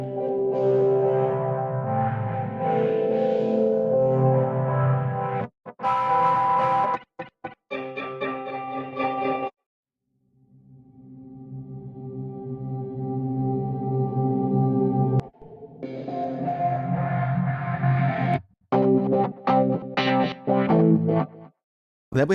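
Pad sounds from the UJAM Sparkle 2 virtual guitarist plugin: distorted, chorused, sustained guitar chords that swell and cut off, with stuttering rhythmic chopped passages in between and a short silent gap midway.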